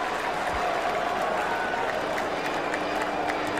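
A cricket crowd applauds and cheers steadily while Sachin Tendulkar takes on Glenn McGrath, a dense, even wash of clapping and crowd noise that fills the whole stretch without a break.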